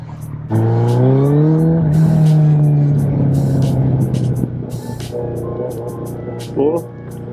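A Suzuki Hayabusa Gen-3 motorcycle accelerates hard in first gear, its engine note climbing loud and close, then easing off before a couple of shorter throttle blips near the end.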